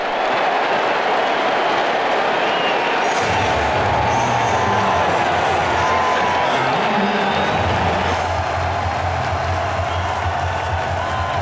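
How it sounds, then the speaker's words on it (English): A deafening stadium crowd roars continuously at an NFL game between the New York Jets and Buffalo Bills, sustained cheering and noise filling the whole span with a low rumble rising partway through. "With a deafening crowd at their back, the D was looking to crank up the volume even more."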